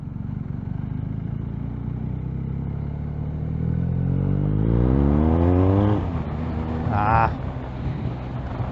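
A BMW R1250R motorcycle engine rises through the revs under throttle, the pitch climbing steadily before a brief peak, with constant wind rush and road noise throughout.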